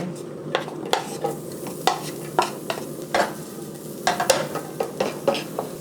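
Garlic cooking in a little oil in a pan, a soft continuous sizzle broken by repeated sharp scraping and clinking strokes of a utensil stirring against the pan, close and without talk.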